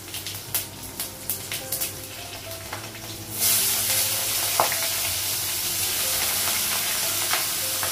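Panch phoron with green and dry chillies sizzles in hot oil in a home kitchen pan. A few sharp clinks and taps come first, then a sudden loud burst of hissing and crackling that holds steady and close.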